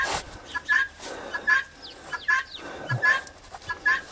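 Chickens squawk and cluck near a farm property, repeated loud bursts in an uneven rhythm with short pauses between calls, close by and clear.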